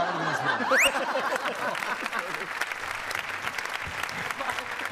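A studio audience at a comedy show bursts into strong applause, a dense sustained clapping with scattered chuckles and a brief whistle near the start.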